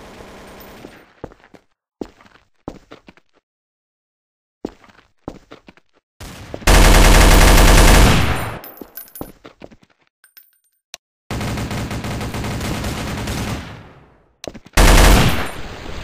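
Sustained bursts of automatic machine-gun fire from an online shooter game, loud and close, arriving in three long volleys separated by scattered single clicks and quiet gaps.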